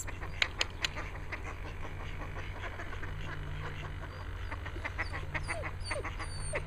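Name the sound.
ducks quacking at a nature reserve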